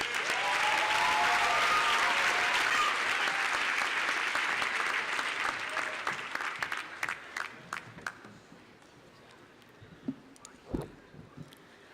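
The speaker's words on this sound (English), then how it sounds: "Let's give them a round of applause." A crowd applauds loudly at a commencement ceremony, a dense burst of clapping that thins out to scattered individual claps and fades away.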